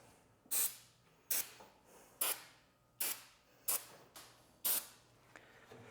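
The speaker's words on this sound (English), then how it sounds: "And then I go through and do it to all the hinges." Lubricant sprayed onto the hinges and bearing of a garage door: six short, hissing spray bursts at a steady, roughly once-a-second rhythm, close and clear, each fading quickly, with no talking.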